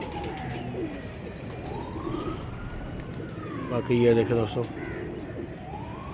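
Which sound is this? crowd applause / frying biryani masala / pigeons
pigeons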